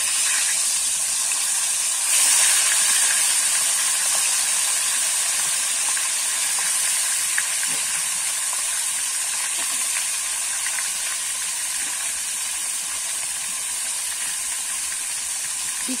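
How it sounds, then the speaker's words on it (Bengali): Chicken pieces fry in hot oil already used for frying potatoes, making a dense, constant hiss that stays loud and even throughout, with faint clinks underneath and no voices. "এই তেলেতেই কিন্তু আমি আজকে চিকেন গুলো ভেজে নেব।"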